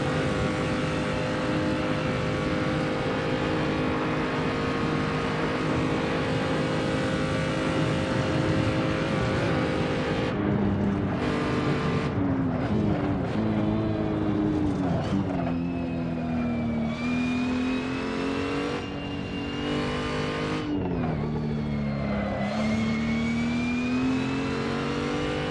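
A race car in a racing video game laps the Nordschleife, its engine droning steadily at high revs, then dropping and climbing again through gear changes and corners, loud and continuous with no talk.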